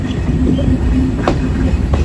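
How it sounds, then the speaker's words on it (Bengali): The Sundarban Express pulls out of two-storey Alamdanga railway station in Chuadanga, giving a steady, loud rumble of wheels and carriages with a few faint clacks. "আমরা এখন ছেড়ে যাচ্ছি চুয়াডাঙ্গা জেলার আলমডাঙ্গা রেল স্টেশন"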